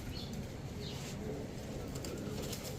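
Low, steady cooing of Indian Bombay pigeons fills the clip, with a dense murmur of several birds close by and faint chirps above.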